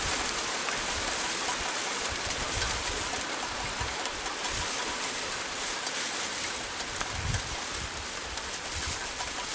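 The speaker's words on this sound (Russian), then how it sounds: "Чуть-чуть не успели, пошел дождь, друзья" Rain falls outdoors as a steady soft broadband patter for several seconds, fairly faint, with no voices.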